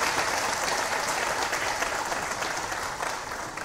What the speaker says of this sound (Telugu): ఒకసారి చప్పట్లు కొట్టండి